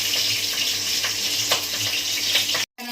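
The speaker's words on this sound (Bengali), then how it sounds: "মাছের মাথা ভাজা হয়ে গেছে" A fish head sizzles steadily in hot oil in a home kitchen, a continuous loud crackling hiss with small pops, cutting off abruptly near the end.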